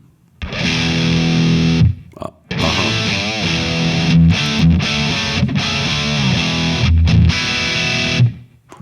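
Heavily distorted electric guitar played through a Kemper Profiler on an amp profile, loud chugging chords and sustained notes in bursts separated by short gaps.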